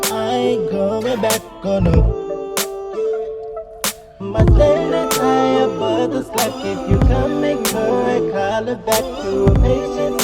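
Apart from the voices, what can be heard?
song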